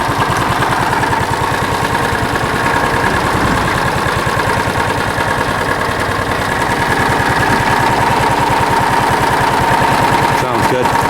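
A John Deere Gator utility vehicle engine runs steadily after a choked start, a loud, close, continuous throbbing idle with a rapid regular pulse throughout.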